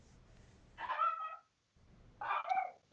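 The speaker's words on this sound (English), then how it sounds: "Dogs." Dogs barking in two loud bursts, each a cluster of rapid overlapping barks lasting under a second, separated by a short pause, with low background hum between.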